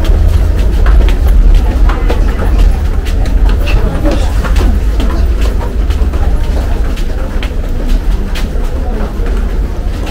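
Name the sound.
local train arriving at a station platform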